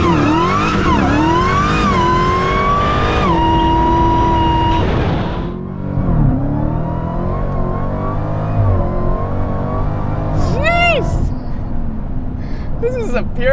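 2018 Dodge SRT Demon Challenger engine accelerating, a loud rising whine and roar climbing through gear shifts, close by, followed by tire noise and a person talking.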